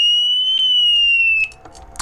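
An Artago 32 motorcycle alarm sensor rings with a loud, piercing, steady high electronic tone that holds for about a second and a half, then cuts off, leaving faint handling clicks.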